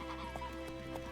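Roach, a horse in The Witcher 3 video game, gives a brief neigh over light hoof clops, a short faint burst with game ambience underneath.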